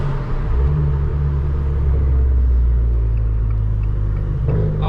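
An Abarth 595 Turismo's engine runs with a deep, steady rumble on a cold day, heard loud and close from inside the car with the windows down. The tone stays even, and a slight rise comes near the end.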